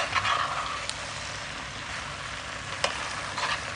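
Chicken pasta is stirred together with a fried egg in a hot pan, producing a steady close sizzle and crackle of frying with occasional scrape-like clicks from stirring.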